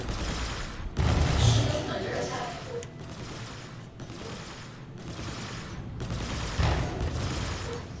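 Spaceship guns in the Star Citizen game fire in sustained bursts, a rapid rattling barrage with heavier booming surges that swell and fade across the clip.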